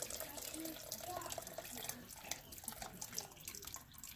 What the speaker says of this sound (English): Let the rest of the broth just kind of drip out of it.